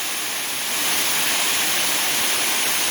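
A waterfall on the Foothills Trail roars steadily as a dense, loud, unbroken rush of water heard close by and alone.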